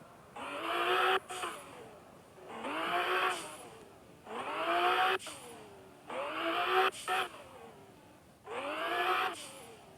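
A car engine in the mobile game Car Parking 3D revs up five times in a steady rhythm, each rise climbing in pitch and then cutting off, loud and synthetic, with a voice speaking briefly over it.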